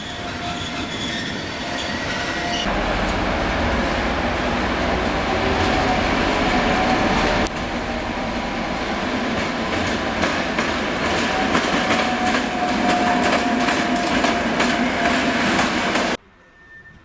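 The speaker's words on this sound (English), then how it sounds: "arrives with a local passenger train and prepares for a quick run-round of its train" A passenger train rolls in at Zvolen, Slovakia, wheels clattering and squealing faintly over a steady loud rumble, without any speech, before cutting off abruptly.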